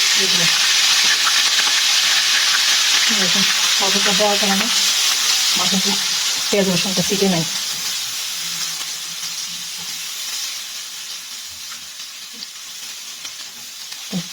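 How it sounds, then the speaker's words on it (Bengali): Oil with turmeric sizzles steadily in a pan while onion, ginger and garlic paste fry for a country chicken curry. The hiss is loud at first, with a voice speaking over it, then fades to a quieter, even sizzle. "তেলের মধ্যে আগে একটু হলুদ দিয়ে দিই হলুদ দিয়ে দিলে যখন আমরা পেঁয়াজ আদা রসুন দিব তাহলে আর ছিটবে না"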